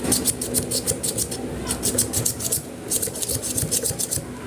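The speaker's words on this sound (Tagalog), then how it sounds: "Tanggalin muna natin to ng liha kasi hindi makakalusot." Sandpaper scrubs rust off the metal shaft of an electric fan in steady, rapid back-and-forth rasping strokes, close and continuous with brief pauses.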